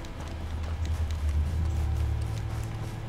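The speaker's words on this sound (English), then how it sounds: "Okay, good. The horse calmed down." A horse in Red Dead Redemption 2 gallops with steady, fairly quiet hoofbeats under a low rumbling background, continuous throughout.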